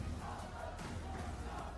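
Esports arena crowd cheering and shouting in a dense, continuous roar of many voices, fairly distant and faint, with no single speaker standing out.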